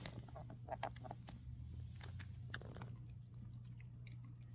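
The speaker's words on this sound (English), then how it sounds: "You gotta chew it now. Don't just swallow it down like you do sometimes." A dog chews crunchy party snack mix up close, with irregular faint crunches and bites over a low steady hum.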